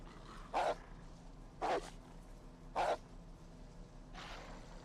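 A dog in a video game barks three times at evenly spaced intervals, sharp single woofs at moderate distance, followed by a fainter fourth bark.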